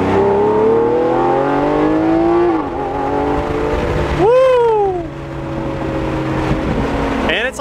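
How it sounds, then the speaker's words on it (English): A Lamborghini Aventador convertible is driven with the top down, its engine note rising loudly in long revving sweeps, dipping, then surging again in a sharp rev near the end, close and steady throughout. "It's like the perfect day to be out driving a Lambo with the drop top."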